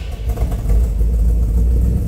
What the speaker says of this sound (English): Go ahead and start this truck up.